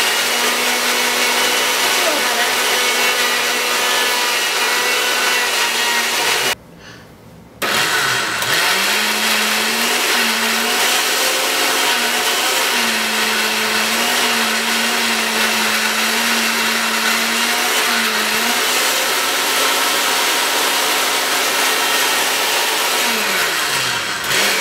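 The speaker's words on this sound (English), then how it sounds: "right now I'm not having any success with my blender making the cheese with the pine nuts and the zucchini" Countertop blender whirring as it purees pine nuts and zucchini into a raw vegan cheese, a loud steady motor whine that stops briefly, restarts and runs on with slight pitch shifts.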